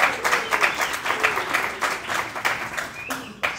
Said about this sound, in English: let's give the commissioner a nice round of applause for being here